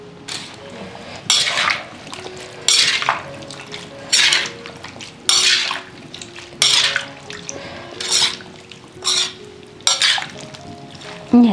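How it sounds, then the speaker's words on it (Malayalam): A spice mixture containing powdered asafoetida being stirred with a spoon in a container and then put into a bottle: rhythmic bursts of close, scraping metal clinks recurring about every second and a half, separated by brief quiet gaps. "നന്നായിട്ട് ഇളക്കിയിട്ട് നമുക്ക് ആ കുപ്പിയിൽ തന്നെ ഇട്ട് വെക്കാം"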